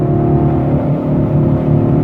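A 2014 Ford Mustang GT with the 5.0 V8 and performance pack pulling hard from around 40, a loud, steady low engine drone heard up close from inside the car, with no talk over it.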